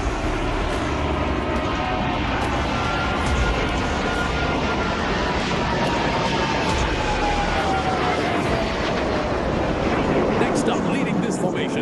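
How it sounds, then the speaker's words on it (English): Four F-16D Plus Fighting Falcon fighter jets escort an MRTT tanker in a flypast at Singapore's 2023 National Day celebration, a loud, continuous roar with wind buffeting that stays constant throughout. "Escorting the MRTT are 4 state-of-the-art F-16D Plus Fighting Falcons from"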